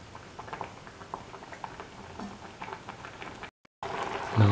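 Spinach, lentil and coconut milk stew simmering in a pot on the flame, a soft continuous bubbling and patter with a brief gap, then a louder burst of sizzling near the end.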